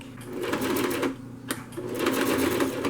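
A sewing machine stitches seat fabric forward and back, running in a loud, rapid mechanical whir that stops briefly midway and then starts up again.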